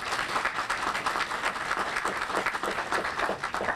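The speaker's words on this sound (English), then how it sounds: "please give a round of applause to our students and faculty" A crowd applauds students and faculty at a school gathering, a dense, even wash of clapping held at steady loudness throughout.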